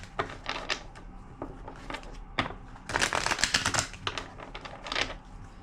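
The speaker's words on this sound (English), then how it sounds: "2 more shuffles." A deck of tarot cards is shuffled up close in quick riffling bursts and clicks, louder through the middle, with no talking.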